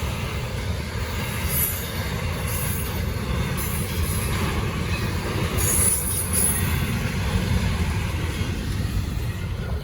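An intermodal freight train on Norfolk Southern's Charlotte District rolls past nearby at night with a steady heavy rumble, rhythmic wheel clatter and occasional high metallic squeals.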